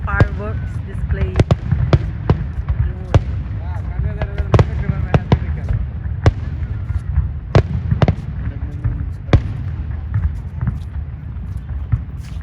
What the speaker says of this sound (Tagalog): para kumuha ng video tsaka panoorin yung fireworks display